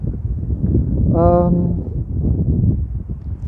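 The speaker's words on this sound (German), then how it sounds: "Ich muss hier mal kurz mein Mikrofon abhalten, weil hier ist schon ein bisschen Wind." Wind gusts buffet a microphone outdoors, a low rumbling roar that swells and fades under a man's speech, with a brief tonal sound partway through.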